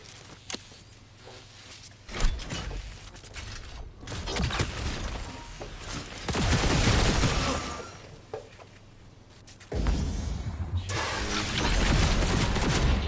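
Gunfire in the Cyberpunk 2077 video game during a fight with a fast-moving enemy: clattering bursts of shots and mechanical impacts come in several loud waves over a busy game soundscape.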